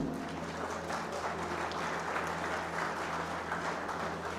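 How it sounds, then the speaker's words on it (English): An audience applauds at the SIH 2023 valedictory ceremony at PIET, a dense, loud, continuous round of clapping with a steady low hum beneath it. "big round of applause for SIH 2023"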